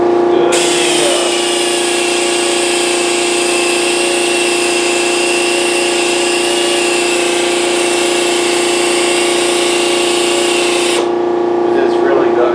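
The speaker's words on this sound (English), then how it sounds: "A polisher, 3-inch pneumatic polisher, and it really don't turn enough RPM" A 3-inch pneumatic polisher runs steadily at close range while working on A-4 molds, a sustained high-pitched air-tool whine with a tonal hum that starts abruptly and cuts off near the end.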